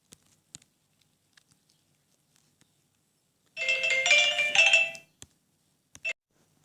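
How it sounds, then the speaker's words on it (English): A phone rings indoors in an otherwise quiet room: one short burst of bright, tonal electronic ringing lasting under two seconds, then silence broken only by a few faint clicks. "Apologies for the phone ringing."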